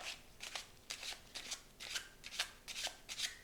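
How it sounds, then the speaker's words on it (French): Playing cards are peeled off a deck one after another in a French shuffle, giving a quick close series of soft papery flicks and snaps in a steady rhythm, with no voices. "vous allez peler les cartes, comme ça"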